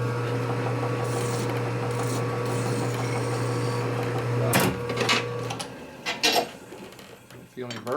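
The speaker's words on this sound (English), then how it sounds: "Okay, now the outside, we use a file." A metal file scrapes and rasps along the outside edge of a vintage Harley knucklehead motorcycle part during deburring, close and steady for several seconds, with a few brief knocks and handling sounds near the end.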